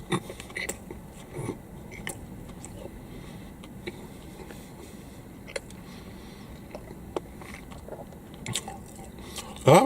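Biting and chewing a McDonald's Big Mac with thin bacon, close up: quiet, moist squishes and soft crunchy bites scattered irregularly, with a sharper clack near the end.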